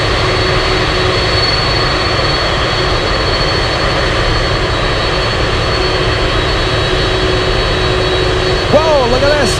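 A Boeing 747 Dreamlifter jet at Anchorage airport, producing a loud, steady engine roar that holds evenly throughout, with a faint voice briefly near the end.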